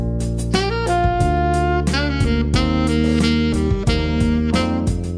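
A synthesized melody with two sixteenth-note passing notes added plays over sustained chords and a steady rhythmic pulse, clear and continuous throughout, with no voices.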